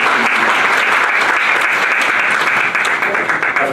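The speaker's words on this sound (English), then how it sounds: "So round of applause for all the." Sustained, dense applause from a conference audience at the Hindu Youth Conference, World Hindu Congress 2018, holding loud and steady before easing slightly near the end.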